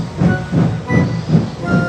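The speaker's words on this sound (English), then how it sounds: "Murdoch whistled goodbye and puffed away with his heavy train." Heavy steam train puffing away, with five strong rhythmic chuffs spaced about a third of a second apart, loud and close, over a steady hiss and a faint high tone.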